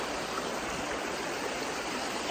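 A mountain river in the Carpathians rushes nearby with a steady, dense roar of flowing water and no voices over it.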